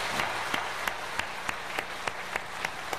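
Church gathering audience applause for a pastor's introduction, a dense crowd clapping with regular sharper claps standing out about every third of a second, steady and moderately close.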